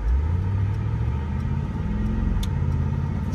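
A Mercedes-Benz G-Wagon engine hums with a steady low rumble, fairly close and continuous, with no voices over it.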